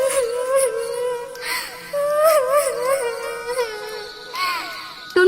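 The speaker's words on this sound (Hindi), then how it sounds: "टुनटुनी को एक पेड़ के पीछे से किसी चिड़िया की रोने की आवाज आती है" A cartoon bird cries from behind a tree in a wavering, whimpering wail that rises and falls in pitch in several sobbing phrases, fairly close and heard alone.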